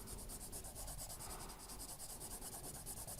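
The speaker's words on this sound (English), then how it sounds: "So I'm just going to shade it in brown" Pencil shading in brown on paper, a faint steady rubbing scratch with quick rhythmic back-and-forth strokes, close and alone.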